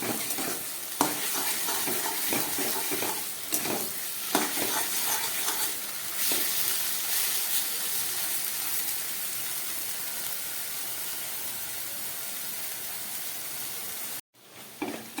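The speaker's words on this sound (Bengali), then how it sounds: "গ্যাসটাকে একদম কমিয়ে আরও দু তিন মিনিটের মতো আমি ভালো করে কচুর শাকটাকে ভেজে নিলাম" Taro leaves (kochu shak) with a little grated coconut fry in a pan over low heat, with a continuous crackling sizzle and occasional scraping stirs for around fourteen seconds.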